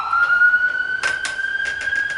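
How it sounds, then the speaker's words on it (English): A police siren wails steadily in the distance on a street, holding a sustained tone, with a couple of brief knocks or thumps partway through. "Feels like there's sirens on this street every day"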